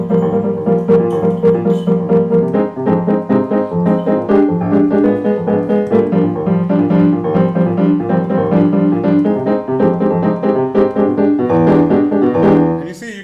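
Latin jazz piano playing a samba rhythm, the left hand imitating a surdo drum pattern under syncopated chords, dense and loud throughout with no talking.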